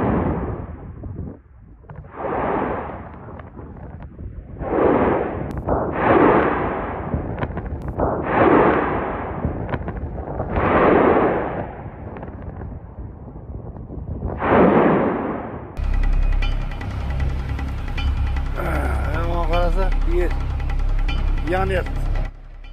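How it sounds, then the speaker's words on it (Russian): A series of deep rumbling booms, about eight blasts one after another, then a continuous roaring, crackling rumble that keeps going to the end. "Извержение вулкана обычно сопровождается грохотом, взрывами, треском и скрежетом, возникающим при выбросе пепла и газов."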